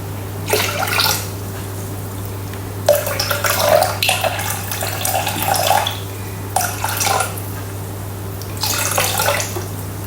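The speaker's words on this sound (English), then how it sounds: "we're just going to add in 1100 grams of water." Water splashes in bursts into a Thermomix mixing bowl, poured several times with pauses in between, close by over a constant low electrical hum.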